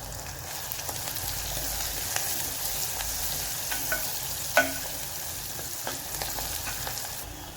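Onions fry in a pan with turmeric and salt, giving a soft, continuous sizzle with light crackles and a few brief clinks of stirring, close and fairly quiet.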